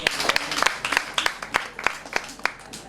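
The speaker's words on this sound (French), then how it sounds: "Applaudissons pour elle." Audience applauding for a young girl who wants to become a doctor, with sharp individual claps ringing out over a steady patter of clapping at a charity foundation gathering.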